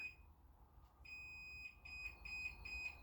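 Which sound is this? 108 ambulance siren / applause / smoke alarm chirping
smoke alarm chirping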